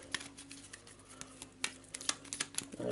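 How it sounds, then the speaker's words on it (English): A deck of cards for the board game A Touch of Evil is shuffled quickly, giving a run of close, dry crackling riffles and soft snaps over about three seconds with no talk. "Quick shuffle."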